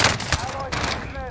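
Gunfire in the video game Call of Duty: Warzone on Rebirth Island, a Tommy Gun loadout, quick bursts of automatic shots, close and loud, with a brief voice line over it.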